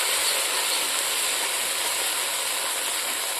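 Spice-rinse water poured into a hot pan with onions for a pigeon meat curry, giving a steady, loud, broad hiss that holds evenly throughout without a break.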